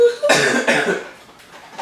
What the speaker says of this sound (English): I am still coughing.